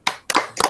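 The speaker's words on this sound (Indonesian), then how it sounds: "mari tepuk tangan" Three quick, sharp claps in a brief rhythmic burst from a group at a school training session, close and crisp.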